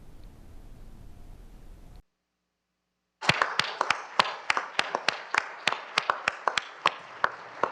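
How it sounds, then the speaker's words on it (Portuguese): A brief hush, then a room breaks into steady applause, many hands clapping in a fast, even rhythm, in the plenary chamber of Brazil's Supreme Federal Court during a special session marking 35 years of the Constitution. "No plenário do STF, todos aplaudem."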